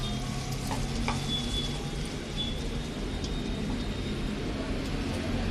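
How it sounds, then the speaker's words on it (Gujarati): Chilli sambharo with peanut powder is stirred in a pan, producing a steady, dense hiss over a low rumble with a few scrapes against the metal. "હવે બધું બરાબર મિક્સિંગ કરી લેશું."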